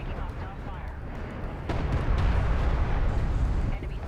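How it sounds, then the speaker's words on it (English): Artillery barrage from a strategy video game match, a dense continuous rumble of overlapping explosions that swells louder midway and holds, under game commentary. "This is quite a good barrage right here."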